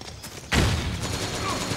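Gunfire in the Metal Gear Online video game during a forest firefight: a sudden loud burst of shots that keeps rattling on as a dense, sustained volley, with faint voices underneath.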